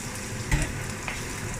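Ingredients for Indonesian fried rice dropping into hot oil and frying, a steady close sizzle with a brief thump as they go in and another small clatter about a second later.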